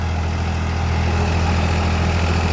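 A 50 hp tractor pulls a rotavator in first gear, its engine running with a steady, loud, low diesel rumble that stays even and unbroken throughout.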